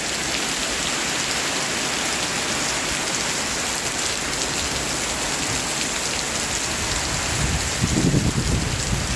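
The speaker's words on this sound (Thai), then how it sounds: "พายุเข้า" Heavy rain pours down during a storm as a dense, constant hiss of drops on surfaces. A deeper rumbling swell builds near the end.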